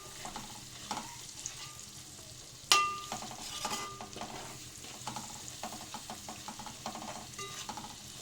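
Egg fried rice stir-fried in a pan, made without sauces or vinegar, with steady sizzling and repeated scraping stir strokes, a sharp metallic clank near the three-second mark, close and alone with no talk.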